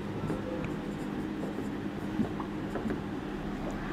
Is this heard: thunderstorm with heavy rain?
no